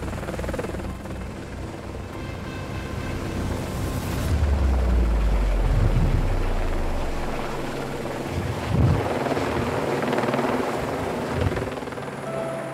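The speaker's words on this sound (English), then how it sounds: "As the helicopter swings back towards the camp" A helicopter carrying a heavy dinosaur fossil toward a field camp, its rotor drone and wind rumble sustained and swelling as it nears, with the low roar peaking midway and then easing, no speech.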